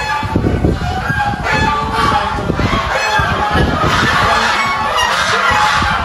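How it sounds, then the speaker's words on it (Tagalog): Several geese honk loudly and repeatedly, close by, with overlapping raucous calls filling the whole stretch. "Ingay ng mga gansa, oh."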